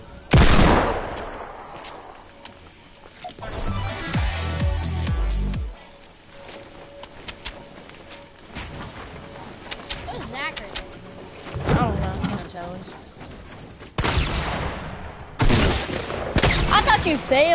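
Bursts of gunfire crack out in a first-person shooter game, including hand cannon shots, as sharp irregular blasts spread across the stretch with quieter gaps between volleys.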